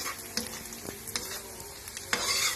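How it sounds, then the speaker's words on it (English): Onions frying in a pan for an Iraqi breakfast, a steady close sizzle broken by a few sharp scrapes and stirring knocks, with no talking. "we're just waiting for the onions to cook and then we can put the whole mixture together"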